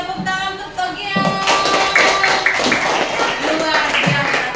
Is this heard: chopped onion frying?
no